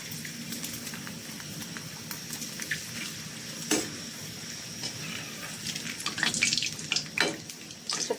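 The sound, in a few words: frying small raw potato chips in a pan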